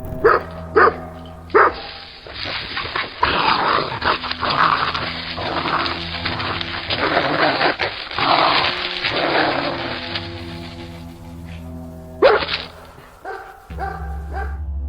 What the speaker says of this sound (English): a German shepherd vaults the fence and charges without hesitation, slamming into the creature with full force